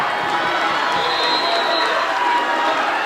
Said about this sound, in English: The crowd on its feet in full throat.